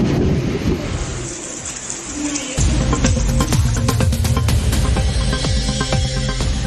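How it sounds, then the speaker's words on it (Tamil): Heavy rain falls across Tiruvallur district, a dense steady roar of downpour with a sudden surge to a louder, fuller wash midway, close and continuous with no voices. "திருவள்ளூர் மாவட்டத்தின் பல்வேறு இடங்களில் கனமழை"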